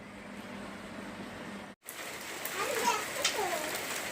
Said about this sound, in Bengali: দেখো দেখো কি সুন্দর বৃষ্টি।